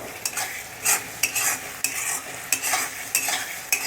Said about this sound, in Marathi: मसाले फ्राय व्हायला मदत होईल